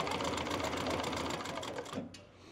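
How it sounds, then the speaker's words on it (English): A leather sewing machine stitches through roughly five-ounce leather, running as one loud, fast, rhythmic mechanical chatter for about two seconds before it stops. "I'm going to do a couple of back stitches while holding my threads. And then I'll just go forward."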